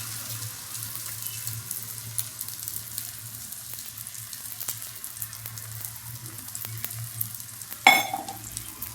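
Egg omelette mixed with turmeric and masala powder frying in a pan, a steady close sizzle throughout, ending with a brief clatter near the end, no talking.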